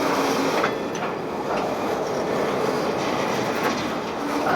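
A Maryland Midland freight train rolls past close by in hazy wildfire smoke, a loud continuous rumble of railcars with rhythmic wheel clatter and faint squeal throughout.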